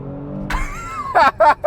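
A 2022 Kia Stinger GT engine revs up with a rising whine, then roars in three short, loud bursts close by.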